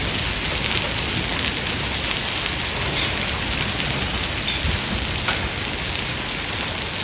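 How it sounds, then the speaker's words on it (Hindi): Heavy rain pours steadily during a hailstorm in Faisalabad, a dense, loud and constant hiss of drops drumming on surfaces with no distinct thunder. "बड़ी तेज़ बारिश है।"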